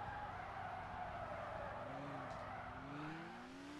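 Tires skid and squeal steadily while a car drifts in the driving game Car Simulator 2, with a constant engine drone underneath and rising squeal tones toward the end, loud and close with no talking.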